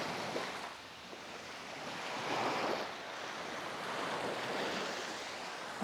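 Surf washing ashore on Kalamaki Beach, Zakynthos, Greece, a steady broadband wash of waves with gentle swells rising and falling, light wind noise over the microphone, no voices.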